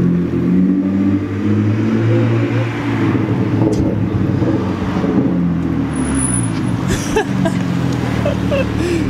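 A BMW F30 sedan approaches and drives up on a street, a continuous engine and tyre rumble that grows and shifts as it nears, with a brief high tone and faint background sounds.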